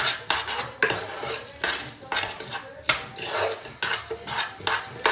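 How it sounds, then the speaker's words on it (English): A metal spoon stirs melting chocolate with coconut oil in a pot, giving repeated scraping and clinking strokes in a steady rhythm. The stirring is close and fairly quiet, with no talking. "So just go ahead and give this a good stir."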